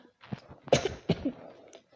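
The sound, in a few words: cough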